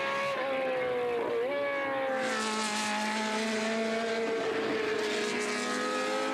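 A classic endurance race car at the Dijon circuit, in a Le Mans Classic round, is heard from a distance, its engine note rising and falling as it accelerates and shifts, a continuous tonal drone with no talk.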